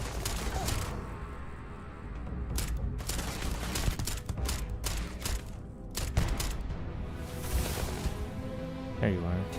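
Gunfire in the video game Starfield, with rapid bursts of shots and metallic clatter going on throughout, heard under steady talk from a player.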